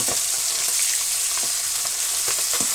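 Catla fish frying in a pan of oil in a village kitchen, a dense continuous sizzle with soft crackles and pops, close and steady throughout.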